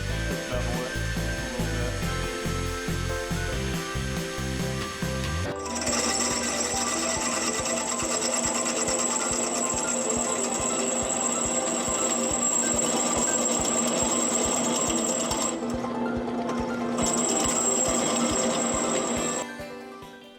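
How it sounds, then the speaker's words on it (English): A small drill bit boring a pilot hole in a metal rod for a custom swing arm on a Honda three-wheeler converted to two wheels. A steady, loud, high-pitched whine runs for about fifteen seconds after an opening stretch of other machine noise. "I'm going to start out by drilling a little pilot hole"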